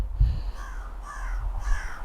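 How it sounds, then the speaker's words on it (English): Crows caw outdoors in cold weather, three harsh, fairly distant calls spaced evenly over a soft background hiss. "Ignore the crows, by the way, they're being really annoying."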